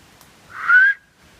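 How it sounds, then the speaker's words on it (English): A single short rising whistle from a person outdoors in quiet countryside, clear and moderately near, lasting under half a second against faint background hush. "Well, I did whistle."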